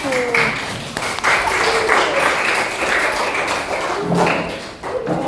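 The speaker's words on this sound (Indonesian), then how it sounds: "beri tepuk tangan untuk temannya" A classroom of students claps for their classmates, a dense, close burst of many hands applauding steadily for several seconds, with a few stray voices mixed in.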